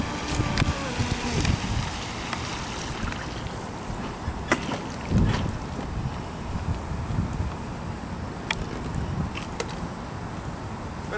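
A Traxxas Spartan RC speed boat runs on open water at a distance, its steady motor whine fairly faint under constant wind noise and water hiss, with a few brief louder bursts.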